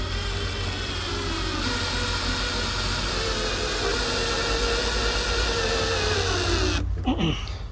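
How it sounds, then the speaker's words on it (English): A steady motor whir runs on and on, a drill grinding into wood close by while building a van bed platform, ending with a brief clatter and a falling whine. "so I can get the drill bit in there."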